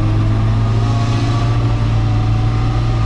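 An Opel Manta's engine revs hard and steadily on a dynamometer test bench, a loud, sustained mechanical roar with a strong low drone that holds constant throughout, no voices over it.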